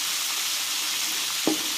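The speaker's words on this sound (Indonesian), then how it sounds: "lalu kita goreng lagi sebentar" Shrimp frying in a pan of oil for a curry, a loud, continuous close sizzle with one brief clatter near the end.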